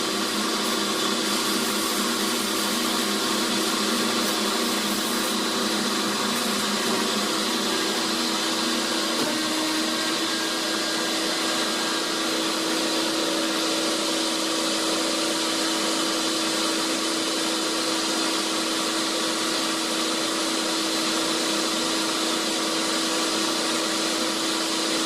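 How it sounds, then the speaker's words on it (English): A refurbished Marvel V110A automatic bandsaw runs through its first cut, giving a steady, loud mechanical whine and hum that holds constant throughout with no speech. "now you can see the machine is going to make its first cut"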